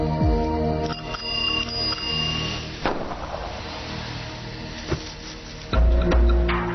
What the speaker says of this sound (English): At the foot of the hill, I rang the bell